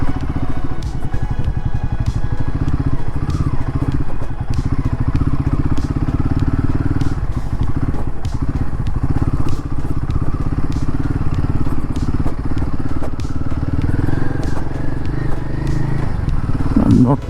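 Royal Enfield Guerrilla 450 motorcycle ridden over a rough rural road past farmland, its steady engine drone loud and close throughout, with clatter and bumps from the uneven surface and a voice talking over it.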